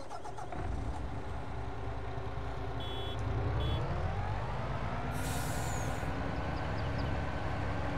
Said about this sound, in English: Let's just grab our fire truck.